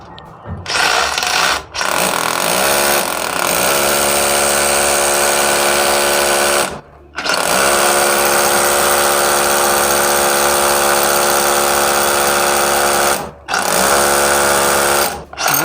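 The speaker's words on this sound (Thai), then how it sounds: "เสร็จแล้วนะครับนี่ผมเจาะลึกประมาณนี้นะครับ" A DeWalt DCH072 cordless rotary hammer drives a 12 mm bit into a hole, its loud, harsh motor whine running in three long sustained bursts separated by brief pauses.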